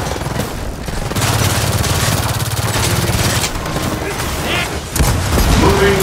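Rapid sustained automatic gunfire in the Gears of War 4 campaign, loud dense bursts that run for several seconds, pause briefly and resume, with game voices heard between the volleys.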